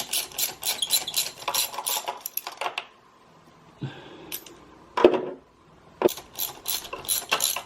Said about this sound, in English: So now I've got my socket for the spark plugs, which I would advise getting one that's magnetic.